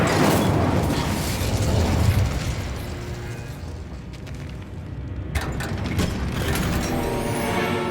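An Incendio fire spell cast in a video game bursts out in a loud whooshing blast, then crackles and rumbles down into a quieter mechanical clatter before flaring up again.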